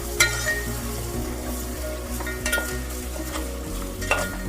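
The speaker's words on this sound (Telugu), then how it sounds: "ఇదంతా ఫ్రై చేస్తాం ఒక రెండు నిమిషాలు" Ginger-garlic paste and spices frying in a pot for bagara rice pulao, a steady close sizzle with scraping stirs and occasional metallic clinks of a spoon against the pan.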